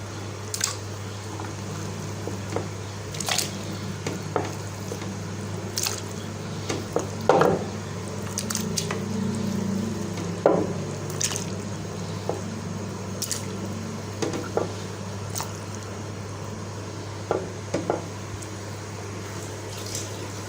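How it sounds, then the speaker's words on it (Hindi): Raw beef pieces dropped into a pot of water for a Punjabi salted beef dish, giving scattered wet squishes and plops at irregular intervals over a constant low hum. "अब हम बीफ को इसके अंदर डालेंगे।"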